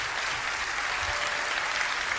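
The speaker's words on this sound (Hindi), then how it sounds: "दर्शक तालियां बजाते हैं और किशोर को मंच पर सराहा जाता है।" Audience applause after a stage performance in a Hindi play, a steady sustained wash of clapping from a crowd, even in level throughout with no voices over it.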